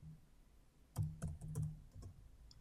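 Typing on a computer keyboard in a quiet room: a short burst of soft, close key clicks in quick irregular succession, faint and clear against light background hiss.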